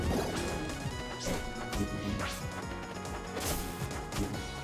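Repeated heavy smash impacts from down smash attacks in the fighting game Rivals of Aether during a tournament match, several sharp crashing hits spaced across the clip over dense, continuous game sound and music.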